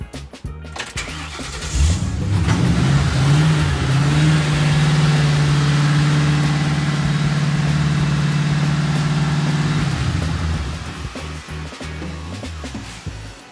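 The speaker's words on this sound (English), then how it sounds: "it's going, boom, starts right up" A Ford F100 pickup engine, with an electrical fault, cranks and catches into a loud, steady idle that runs for about eight seconds before shutting off, with no talking over it.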